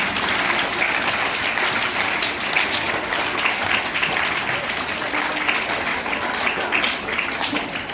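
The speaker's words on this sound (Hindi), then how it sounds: "एक बार जोरदार इन बच्चों के लिए तालियां।" Enthusiastic applause for a group of schoolchildren, KG to 5th-class monitors, at a Teej celebration: a dense, steady crowd clapping that holds loud and unbroken throughout, fairly close.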